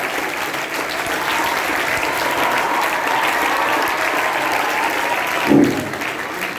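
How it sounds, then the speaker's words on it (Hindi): Dense, steady applause fills a hall for a book presentation at a Teachers' Day function, sustained without pause, with a faint short voice near the end. "जोरदार तालियों के साथ इस किताब का इजहार कीजिए।"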